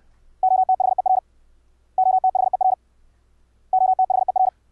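High-speed CW Morse code played through an audio filter, heard as a clean steady tone keyed in three rapid bursts of dense dits and dahs separated by short silences, over a faint low hum.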